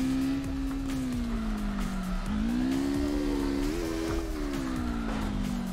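Engine of a drift car in CarX Drift Racing held at full throttle, a loud steady high-revving drone that dips and rises in pitch as the car slides, continuous with no talk.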